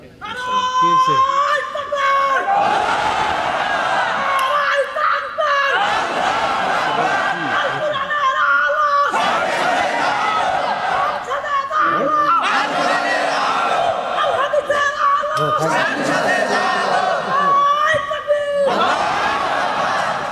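A large crowd at an outdoor Islamic sermon shouts takbir in repeated loud, massed chants, rising in waves several times with brief pauses between, and a preacher's voice comes in between the chants.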